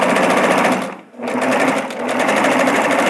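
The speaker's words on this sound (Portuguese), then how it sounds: "E passa a costura reta." A sewing machine runs a straight seam over pinned fabric, a loud, steady, close mechanical whir that drops out briefly about a third of the way in and then resumes at the same even speed.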